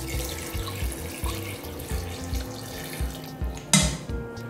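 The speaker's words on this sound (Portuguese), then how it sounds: "Aqui eu vou colocar mais ou menos 2 copos de água." Water is poured into a pot of chicken gizzards being cooked with okra, a steady splashing trickle close up with a clink of cookware near the end.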